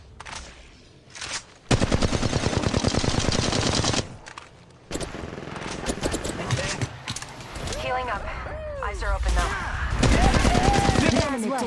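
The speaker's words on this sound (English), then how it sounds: "Listen up, I'm getting shot at." Gunfire in the Apex Legends video game bursts in rapid automatic volleys, loud and close, with short gaps between strings of shots, while in-game voices and effects speak over the later part.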